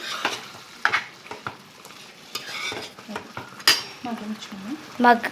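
Mughlai chicken curry is stirred in a pan with a metal spoon: scraping strokes and clinks over a soft background sizzle, close and fairly loud, with no speech.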